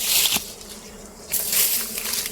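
Honeybees buzz around a honeycomb just removed in a farm field, making a dense, close, continuous hum that swells, dips briefly, then rises again.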